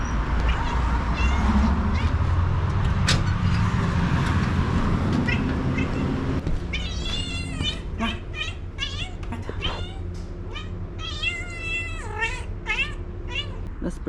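A mother cat with a newborn kitten meows loudly and repeatedly, the calls rising and wavering, first over a heavy rumbling background and then clearer against quieter surroundings.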